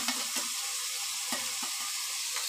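Garlic paste sizzling as it goes into onion paste frying in a pan, a soft continuous sizzle with a few light clicks from stirring.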